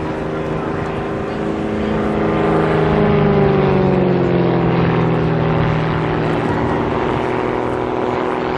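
Aerobatic aircraft engine performing a display routine at the Jesolo European Airshow, a steady loud propeller-engine drone with pitch shifting slowly up and down as the plane maneuvers, continuous throughout.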